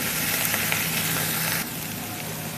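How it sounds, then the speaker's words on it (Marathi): Chopped onion fries in hot oil with curry leaves in a pan, a dense, close sizzle that holds steady, with a faint stir partway through before the hiss settles slightly quieter. "एक कांदा चिरून घातला मिक्स करून घेतो कांदा चांगला फ्राय करून घ्यायचा आहे तेलामध्ये"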